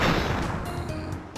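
Mine explosion in Crash Bandicoot 2: a loud booming burst that decays into a crackling rumble, with small game effects afterward.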